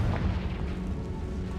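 Confringo, the blasting spell in Hogwarts Legacy, sets off a deep, booming explosion inside a tomb, a single heavy low rumble that keeps rolling and fills the whole short moment.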